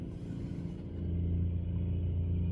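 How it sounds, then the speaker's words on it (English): Low engine rumble of a heavy truck passing in low gear, a steady deep drone that grows slightly louder, with no voices. "Truck driving by is in low gear."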